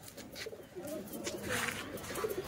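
Pigeons coo softly in a low, rolling murmur that carries through the whole stretch, steady and moderately near with some faint background noise and no talking.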